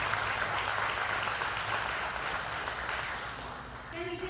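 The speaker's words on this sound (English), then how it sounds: "Let's give him applause for crossing the line." Sustained applause from a crowd at a memorial service, a dense wash of clapping that fades slightly toward the end as a voice begins.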